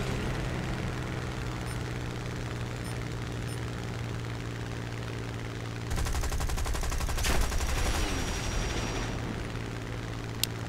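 Rapid machine-gun bursts from an aircraft in War Thunder, with a steady propeller engine drone beneath them. The gunfire starts partway through as a dense, loud rattle.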